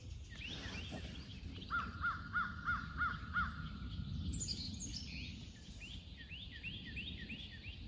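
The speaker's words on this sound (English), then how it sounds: "You occasionally hear a crow." A crow caws in the distance outdoors on a spring turkey-hunting morning, giving a run of about five evenly spaced calls, then more ragged calls later over a quiet, hissing woodland background.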